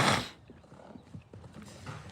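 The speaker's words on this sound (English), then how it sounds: "what are those horses fucking going nuts at down there? They're both running around like idiots." Two horses running around in an outdoor paddock: a brief loud burst opens, then soft, scattered hoof thuds at a distance.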